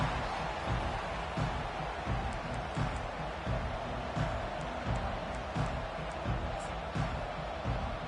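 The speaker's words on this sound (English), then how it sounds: "This crowd bringing the energy and noise early." A stadium crowd at a USC versus Miami football game roars and cheers in a dense, sustained wall of noise, rising in waves, with a commentator talking over it.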